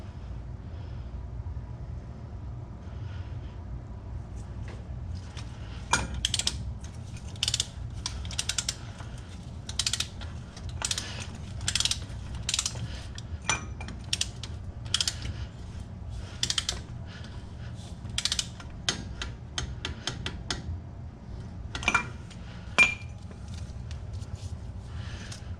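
Clicking ratchet wrench tightening a lock nut on Toyota pickup front brakes, heard close as bursts of quick clicks against a low, steady background hum.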